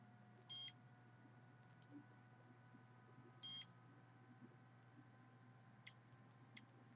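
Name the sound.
microwave detector beeping in pulses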